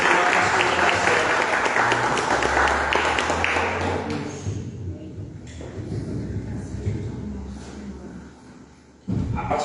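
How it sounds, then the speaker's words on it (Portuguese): Congregation applauding in a church service, loud dense clapping that fades after about four seconds into scattered claps, shuffling and murmuring voices, then a sudden thump near the end. "Querido, aplauda o Senhor."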